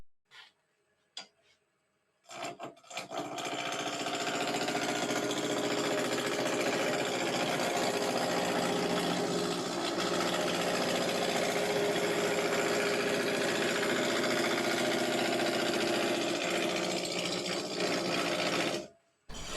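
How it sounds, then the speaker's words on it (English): A wood lathe turning a baluster as a large spindle roughing gouge cuts, a loud continuous whirring hum with rough cutting texture that starts after a few taps and runs steadily before stopping abruptly. "The large spindle roughing gouge removes a lot of wood quickly."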